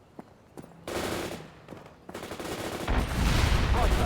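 Machine gun fire in the real-time strategy game World in Conflict. It starts as scattered shots, then grows into sustained, loud automatic bursts with heavy low rumble as the fight intensifies.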